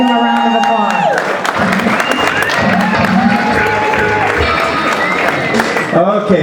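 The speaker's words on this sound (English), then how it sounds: "please give him a round of applause" Audience applause with cheering and whoops at a RockGodz induction event, loud and sustained, mixed with crowd noise and voices throughout.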